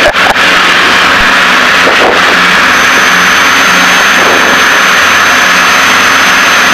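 The turbocharged twin engines of a Piper Seneca run at high power, a loud, steady, close droning roar from inside the cockpit with no break.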